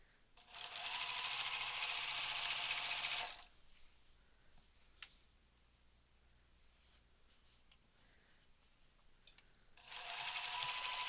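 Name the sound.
sewing machine backstitching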